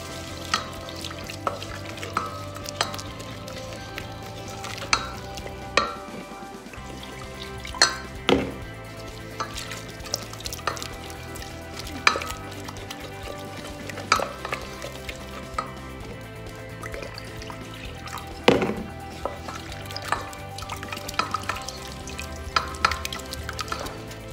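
Milk stirred into a lobster thermidor sauce as it cooks, with steady scraping and tapping of a spoon against the pan at irregular intervals over a low, continuous bubbling sizzle, close and fairly loud, no talk.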